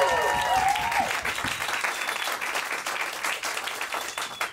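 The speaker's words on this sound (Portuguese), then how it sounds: "palmas pra vocês que vieram aqui." Stand-up comedy audience breaks into applause, dense clapping that swells at first and then settles into a steady ovation, with a voice briefly audible at the start.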